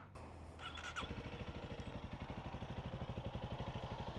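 A Honda CRF300L motorcycle, which has a throttle problem, starts moving and settles into a steady, rhythmic engine pulse, fairly close and without talk.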